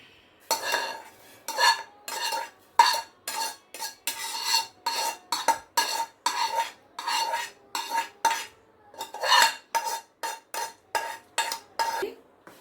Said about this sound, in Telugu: బాగా కలపాలి, అంటుకోకుండా గిన్నెకి చక్కగా కలపాలి, లేదంటే మాడిపోద్ది.